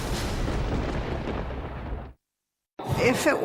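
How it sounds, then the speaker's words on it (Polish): A thunderstorm breaks out with a heavy, sustained roar of thunder and rumble. It cuts to silence for a moment before another loud burst of thunder strikes. "Ale najpierw rozszaleje się burza."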